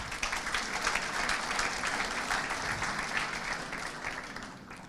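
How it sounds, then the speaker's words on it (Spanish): A conference audience gives steady, dense applause, a continuous wash of many hands clapping that holds loud and even, then tapers slightly near the end, with no voices over it. "Fuertes aplausos para él."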